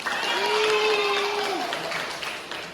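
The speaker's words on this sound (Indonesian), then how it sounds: "Sebelumnya tepuk tangan untuk kita semua." A primary-school class claps together in a classroom, a short burst of applause with a child's drawn-out voice rising over it before the clapping fades.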